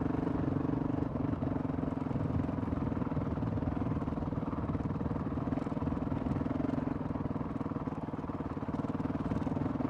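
Honda CRF 450 RL dirt bike with a Taipan AIM ECU crawling along at very low speed on hardly any throttle, a steady, close, thumping idle-like engine chug that holds even throughout.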